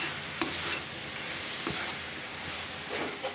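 Grated coconut and chopped jaggery stirred in a kadhai over a gas flame, a soft continuous sizzle and hiss with occasional light scrapes of the spoon against the pan, fairly quiet and close.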